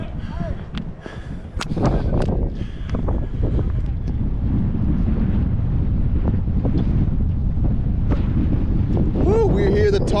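Strong wind roars and buffets the microphone at the top of Stone Mountain, Georgia, a loud continuous rumble lasting throughout, with people talking faintly beneath it.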